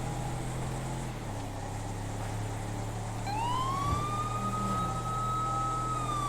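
A police car siren in the GTA V LSPDFR mod rises from low to a high, steady wail partway through, heard over constant engine and road drone from inside the patrol car.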